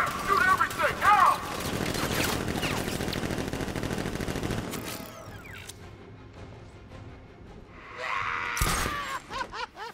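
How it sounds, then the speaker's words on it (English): Rapid bursts of automatic gunfire from militia guards in the video game Batman: Arkham Knight crackle in a dense, continuous volley, with mechanical clatter and shattering, then thin out before a final burst. "Guard! Open fire! Shoot everything!"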